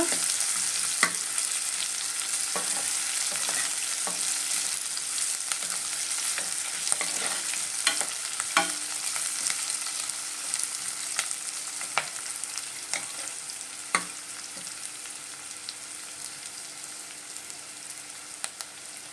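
Ingredients for radish sambar fry in a pan with a continuous close sizzle, punctuated by repeated spatula scrapes and taps from stirring, steady and moderately loud with no talking.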